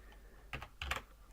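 Short burst of typing on a computer keyboard, a few quick close key clicks against a quiet room, no voice.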